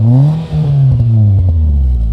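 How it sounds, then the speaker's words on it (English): A 2002 Mitsubishi Lancer engine revs up loud and close, its pitch climbing through a sustained roar with a brief dip partway through, no talking over it. "I'm gonna rev it. Fast and Furious style."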